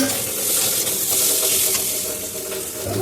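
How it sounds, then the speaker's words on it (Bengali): Shrimp hitting hot oil with onions in a pan, a loud, steady sizzle and hiss with soft scraping as the mixture is stirred, close and continuous with no talk. "নাড়াচাড়া করে এবার চিংড়ি মাছ দিয়ে দিলাম"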